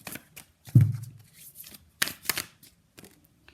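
Tarot-style Moon Oracle deck cards riffled and shuffled by hand, a soft thump followed by several quick papery bursts close by, alone without talk.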